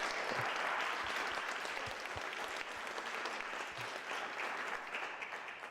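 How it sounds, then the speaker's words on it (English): Audience clapping for a panel at a community presentation in Versailles, Kentucky, a steady, dense applause that fills the whole stretch at an even level without any speech over it. "can we get a round of applause for this great panel?"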